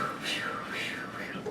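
Voice imitating a rotating lawn sprinkler with soft breathy whooshing hisses that swell and fade in a repeating cycle, quiet and close.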